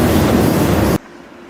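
Freight train rolling along with a loud, steady broadband rumble of wheels and cars heard from on board, cutting off abruptly after about a second to a faint quiet background.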